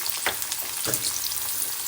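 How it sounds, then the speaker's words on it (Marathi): Steamed cauliflower roasting in oil in a kadhai over a full flame, a dense, close sizzle with brief stirring scrapes breaking through, steady throughout and no talking. "जी वाफलेली फ्लावर आहे ती मी अशी या कढईत टाकते आणि छान अशी याला एक दोन ते तीन मिनट रोस्ट करून घेते म्हणजे फ्राय करून घेते"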